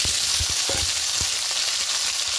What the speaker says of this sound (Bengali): আলুগুলো একটু ভাজা ভাজা করে নেব।